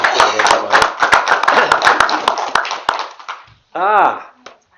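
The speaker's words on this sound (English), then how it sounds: "A round of applause for them being that brave to do that." Applause from an audience at a live session, a burst of clapping that swells and fades over a few seconds, followed by a voice speaking.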